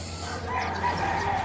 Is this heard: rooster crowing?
yes